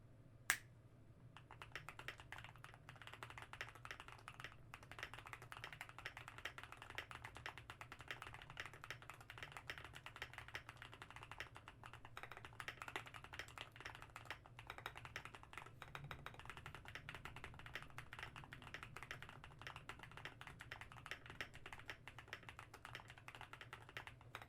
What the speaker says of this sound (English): I personally didn't like the sound of the spacebar, so I decided to try and change the switch with a tungsten